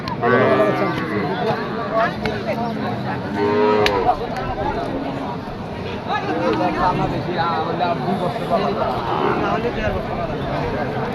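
A cow moos loudly nearby at a cattle market in Kazipur, Sirajganj, a couple of low drawn-out calls, over a busy crowd murmuring and chattering throughout.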